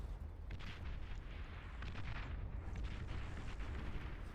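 Agitator artillery in Beyond All Reason booms in a dense stream of shots and explosions, a steady barrage of low thuds and bursts with no voices over it.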